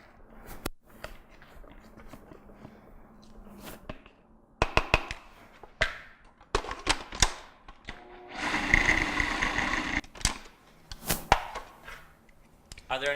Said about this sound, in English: So you're just going to keep moving that around and keep blending it.